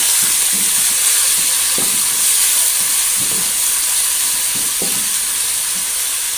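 Spices are stirred in a hot frying pan under a loud, steady sizzle, with a few soft scraping strokes of the utensil scattered through.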